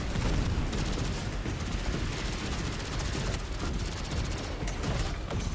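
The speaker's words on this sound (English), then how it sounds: "Explosion noise." Dense, continuous gunfire and explosions from the Destiny 2 video game, a loud unbroken barrage of bursts and booms lasting several seconds with no talk over it.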